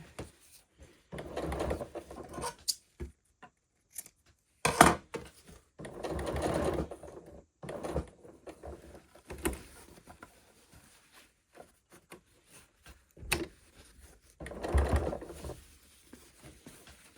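A sewing machine stitches an inside seam on a Regency-style garment in short bursts of rapid mechanical whirring, separated by quiet pauses and small clicks as the fabric is adjusted.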